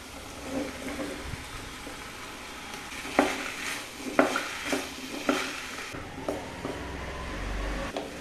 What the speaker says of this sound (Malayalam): ഇനി ഇതിലേക്ക് ആ കഷ്ണങ്ങൾ ഇട്ട് ഒന്ന് ഇളക്കുക